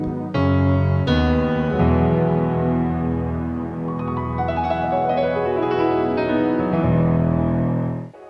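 A Nord Stage 4 keyboard's worship piano sound plays a flowing passage of sustained chords and melody, full and steady throughout, with no voices.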